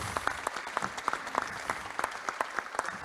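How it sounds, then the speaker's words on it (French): Conference audience at a plastics event claps for the author after his talk, a thinner applause where individual sharp claps stand out in an irregular patter at moderate volume. "on peut applaudir Éric Orsenna"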